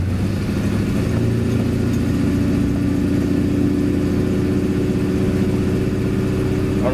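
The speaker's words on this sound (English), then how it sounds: "I'll go around this corner and accelerate up a hill" A car engine with a 4L80E automatic transmission held in second gear pulls up a hill, its steady droning hum climbing in pitch as it accelerates, loud and close with no talking.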